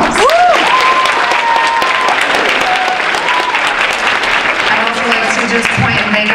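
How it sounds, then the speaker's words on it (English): Sustained audience applause fills a school 8th-grade step-up ceremony, loud and steady throughout, with cheering voices mixed into the clapping crowd. "let's give Mr. Montesian a round of applause"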